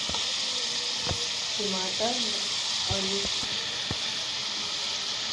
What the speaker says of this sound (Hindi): चिकन और आलू ऐड करके 2 से 3 मिनट भूनेंगे इसे